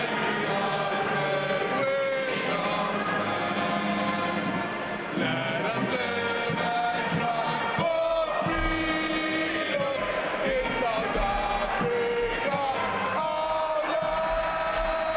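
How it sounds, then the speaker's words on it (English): A large stadium crowd at an Ireland versus Springboks rugby international roars and chants in a dense, continuous wash of voices, loud and sustained throughout with surging swells. "Listen to the crowd."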